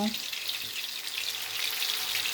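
Marinated homemade tandoori chicken pieces grill with a dense, constant sizzling hiss heard close and fairly loud, and a faint voice underneath.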